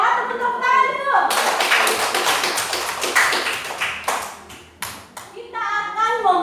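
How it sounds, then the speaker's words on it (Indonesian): Classroom applause from students breaks out after brief talk, a burst of quick rhythmic hand claps and taps that thins out, with children's voices heard before and after. "Tepuk tangan dulu."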